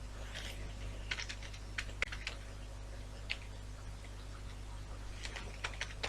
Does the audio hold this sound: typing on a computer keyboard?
yes